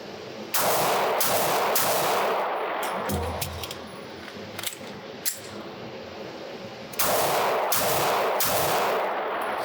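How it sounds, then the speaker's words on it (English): A Beretta APX A1 pistol fires during reload drills, with two loud strings of rapid shots separated by a quieter pause full of handling clatter. No one speaks. "let's have some fun now with reloads"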